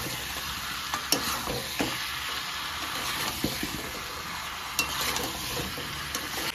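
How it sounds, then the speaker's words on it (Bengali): Chicken and potatoes with a whole onion and a whole garlic bulb sautéing in a pan, a steady close sizzle with intermittent scrapes and clinks of stirring throughout. "ভালো করে কষে নিয়েছি মাংস আলু।"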